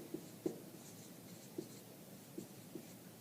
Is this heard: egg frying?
no